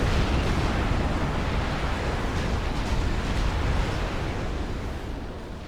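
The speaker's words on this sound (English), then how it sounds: "Babel indicates that it needs to move to avoid the mobile missile launcher fire" Mobile missile launcher fire in Supreme Commander: Forged Alliance, heard as a loud, dense rumble of overlapping blasts and booms that rolls on steadily and eases off slightly toward the end.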